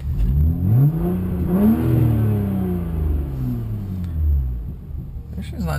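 A BMW 135i with a prototype exhaust and downpipe revving, heard from inside the car: a deep engine rumble swells and falls through several rev sweeps, under some talk from the occupants.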